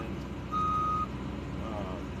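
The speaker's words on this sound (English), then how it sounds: "That loud beeping that you hear is a truck with a small crane on it coming in" A truck fitted with a small crane sounds a loud, steady reversing beep close by at an underground propane tank removal, over a low engine rumble.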